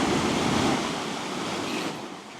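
Ocean waves wash onto a beach in a steady, loud roar of broadband surf that eases slightly as the wave recedes, with some wind noise and no voices.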